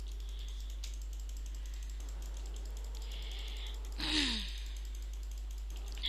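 Rapid computer mouse clicks tick faintly and steadily through a quiet room, with one brief sweeping whoosh near the end.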